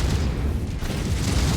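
Explosions rumble in the Mechwarrior 5 video game, a dense, heavy low-end boom that stays loud and sustained through the short stretch, with no speech.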